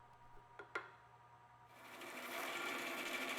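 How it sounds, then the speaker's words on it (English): A drill with a 1/4 inch bit bores holes through a wooden router table jig, first a couple of sharp taps, then a steady rising whir of the bit cutting through the wood, close and fairly quiet. "they're drilled through using a 1/4 inch bit"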